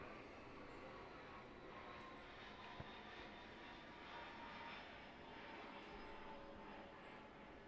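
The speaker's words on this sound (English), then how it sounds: "there's a plane that's just flown very low over here" Steady roaring drone of an airplane engine passing low overhead, constant and broadband throughout, with no speech.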